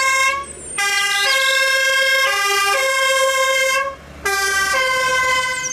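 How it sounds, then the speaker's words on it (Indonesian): A toy fire truck blares an electronic siren with bright harmonic tones that warble and step between pitches. It sounds loud and close, pauses briefly twice and then repeats. "ada mobil pemadam"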